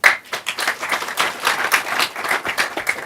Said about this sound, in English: So I would like you to give them an applause